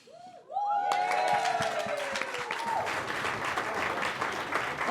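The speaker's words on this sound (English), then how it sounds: "round of applause for our Charm City Kings crew, our actors." A crowd at a Sundance film screening breaks into loud, sustained applause with some cheering, beginning right after a singing voice trails off.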